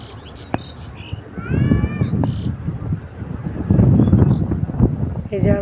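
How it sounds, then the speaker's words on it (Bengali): Gusty pre-rain wind on a high village hilltop buffeting the microphone in low rumbling bursts, rising and falling twice, with faint birdsong and a brief voice in the background. "বাতাস"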